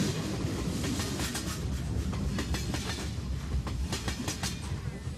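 A train rolls steadily along the tracks through the Tibetan Himalayas, a continuous low rumble with faint rhythmic clicks of wheels over rail joints, heard from inside a carriage.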